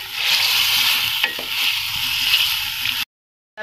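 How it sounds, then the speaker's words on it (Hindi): Chicken for a korma sears on high heat with a dense, loud sizzle heard close and alone. Occasional stirring knocks come through before the sound cuts out abruptly near the end. "अब इसको तेज आंच पे हम तकरीबन 10 से 15 मिनट तक इसको बहुत अच्छी तरह से भूनेंगे"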